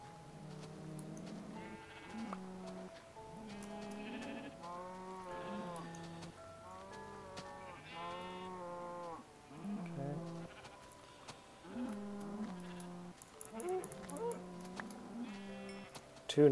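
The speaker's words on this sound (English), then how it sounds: "we've got sheep" Repeated sheep bleats in a video game, several overlapping, over steady game music with a rhythmic melody; bleats come every second or two at moderate loudness.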